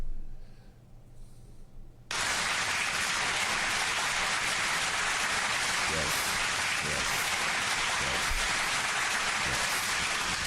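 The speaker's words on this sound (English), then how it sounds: "Can we drop a clap for those players," After about two seconds of quiet, loud, dense applause breaks out and holds steady to the end, a sustained wash of clapping for the players.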